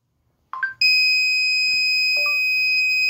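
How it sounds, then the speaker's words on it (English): A steady electronic buzzer switches on and holds a loud, continuous high-pitched tone after a few brief clicks and beeps. "we can control the buzzer also. Buzzer on"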